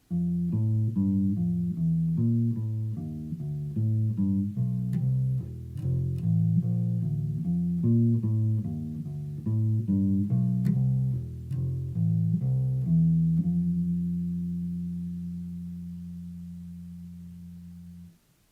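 A plucked low bass plays a steady walking line of evenly spaced notes, ending on a long sustained tone that slowly fades.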